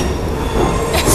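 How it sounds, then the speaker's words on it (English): Train rolling through London toward London Bridge, a steady close rumble of the carriage with faint wheel noise throughout a short stretch. "we're on the train on the way to the first gig in London"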